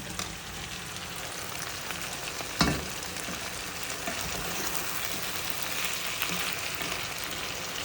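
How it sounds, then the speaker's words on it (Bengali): Chicken fries in a pan with a steady, even sizzle and a single sharp knock partway through; no voices. "এটা একটু ভাজতে একটু দিয়ে দিয়ে এবং সাদা সাদা করে রান্না করবো"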